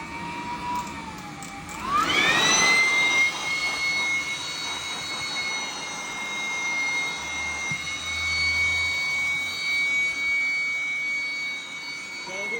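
An 800-watt combination leaf blower and vacuum switched into vacuum mode spins up to a loud, steady high-pitched whine that holds for the rest of the clip, with a few faint background sounds.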